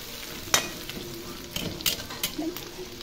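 Pancit bihon rice noodles stir-fried in a pan, with a steady low sizzle under a few sharp scraping and clinking strokes of the utensil against the metal, close and moderately loud with no talking.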